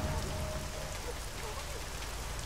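Heavy rain falls steadily in the video game Deus Ex Mankind Divided, a dense hiss of drops beneath faint background sounds.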